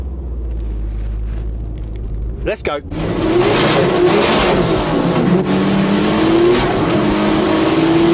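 Volkswagen Golf R engine revving hard and accelerating, a loud continuous roar with rising pitch that dominates after a brief quieter idle, while a voice speaks briefly at the start.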